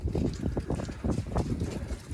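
Strong wind buffets the microphone in rapid, rumbling gusts, loud and close, with no speech.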